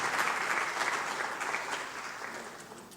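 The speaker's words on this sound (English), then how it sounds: "Shall we give ourselves a clap?" Seminar attendees clap for themselves at the close of a meeting day, a burst of brisk group applause that starts full and gradually thins and fades over a few seconds.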